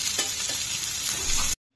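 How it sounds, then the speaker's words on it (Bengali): Fried rice with chicken and a little onion sizzles loudly in a pan, with a steady crackle and a few soft stirring scrapes, then it stops abruptly. "অল্প একটু ভাত ছিল, চিকেন দিয়েছি, আর এক টুকরো চিকেন, অল্প একটু পেঁয়াজ দিয়ে ওর জন্য বানানো হচ্ছে ভাত ভাজা"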